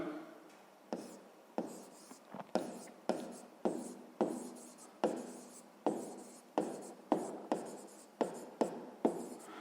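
Pen writing on paper during a sixth-grade math exercise, a close series of regular scratchy strokes in quick bursts, with faint voice beneath.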